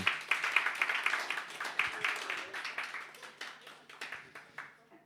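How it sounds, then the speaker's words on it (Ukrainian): Applause from a comedy show audience for a performer named Olena, a dense run of close hand claps that gradually thins and fades over several seconds. "Ваші оплески Олені."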